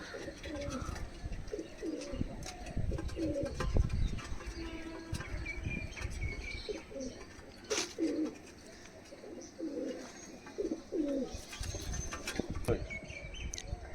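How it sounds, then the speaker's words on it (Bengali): A pair of Oman bloodline pigeons cooing up close, repeated soft throaty coos in short rhythmic phrases, with faint background clatter and occasional chirps. "ওমান ব্লাড লাইনের এক পেয়ার কবুতর আমি দেখাচ্ছি"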